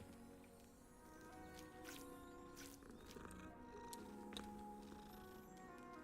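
A cat purrs in the Hogwarts Legacy video game, a soft low rumbling purr mixed with faint game ambience and a few light clicks.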